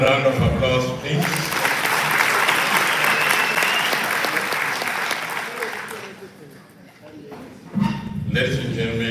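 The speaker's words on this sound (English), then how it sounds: "One round of applause, please." An audience at a workplace safety and health commemoration claps in a loud, dense burst of applause lasting several seconds before fading, with a voice speaking briefly at the start and end.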